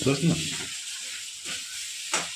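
Potato filling for masala dosa is stirred in a hot pan, giving soft sizzling and scraping swishes in a few short strokes, with a brief voice speaking at the start.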